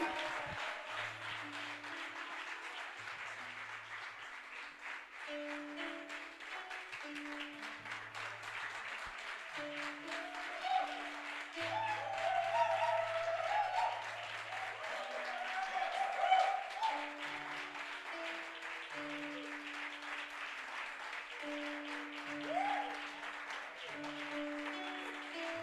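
A church congregation claps together through a worship service, a steady continuous applause with sustained organ or keyboard tones underneath and a few louder swells, moderately distant.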